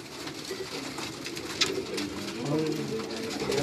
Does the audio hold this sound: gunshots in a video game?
no